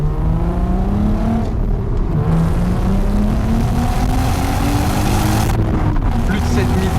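An Audi TT MK1 with a 3.2 V6 and manual gearbox revs hard past 6000 rpm, its engine note climbing steadily in a loud, continuous in-car drone, with a brief shift and more climbing.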